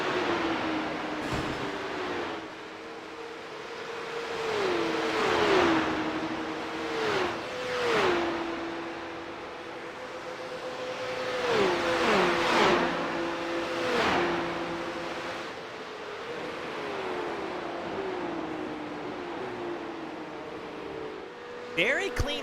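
Porsche Cup race cars at Watkins Glen surge past in waves of engine roar with rising and falling pitch as they pass, mixed under steady commentary.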